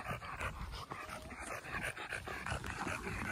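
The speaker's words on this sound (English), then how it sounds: "You hear the Pua panting." A dog pants quickly and steadily close by in a park after a run, with a few faint whimpers mixed into the breathing.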